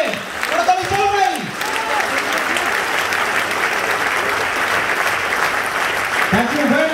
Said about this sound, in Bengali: স্যারের জন্য জোরদার করতালি হবে বন্ধুরা, জোরদার করতালি হবে